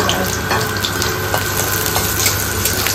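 Garlic sizzles steadily in a hot pan while being stirred for pav bhaji, a continuous close frying hiss with faint scraping of the spoon and no talking.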